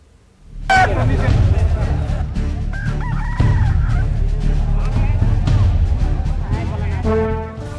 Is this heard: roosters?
yes